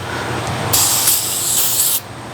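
Aerosol cleaner sprayed onto clutch parts to strip brake dust during a clutch job on a 1966 Plymouth Wagon, a loud close hiss lasting over a second, alone.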